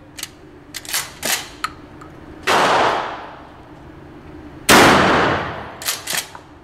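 A shotgun is pumped and fired at an outdoor gun range: a few small mechanical clicks, then two loud sharp blasts a couple of seconds apart, each trailing off in a long echo.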